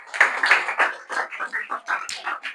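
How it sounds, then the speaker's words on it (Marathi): Students in a classroom clap for classmates who solved a math problem, a short burst of uneven, bright claps in several quick pulses, with no talk over it. "ओके टाळ्या वाजवा यांच्यासाठी"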